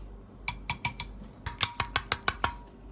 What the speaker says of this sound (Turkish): İyicene karıştırıyoruz sosumuzu